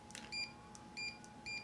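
A SportDog training collar remote gives short electronic tone beeps when its tone button is pressed, three quick bright bleeps in a quiet room.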